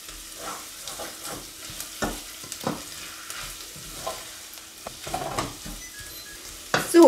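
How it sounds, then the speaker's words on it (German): Sugar and flour frying in a pan on slightly above medium heat, a soft steady sizzle broken by repeated scraping stirs of a spoon against the pan, close and moderately quiet with no talking. "Und lassen wir jetzt auch kurz noch mit dem Zucker und Mehl so vielleicht auch wieder 1-2 Minuten anbraten"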